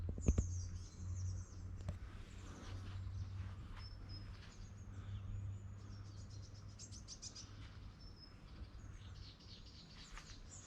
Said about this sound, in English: Wow, only the sound of a bird or two.